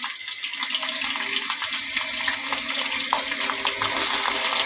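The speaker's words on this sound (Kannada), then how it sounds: "ಇವಾಗ ಕಡಾಯಿ ಇಟ್ಟು ಎಣ್ಣೆ ಬಿಸಿಯಾಗಿದೆ ಜೀರಿಗೆ ಮೆಣಸಿನ್ಕಾಯಿ" Cumin and green chillies hit hot oil in a kadai, a bright continuous crackling sizzle that holds steady and loud, with small pops throughout.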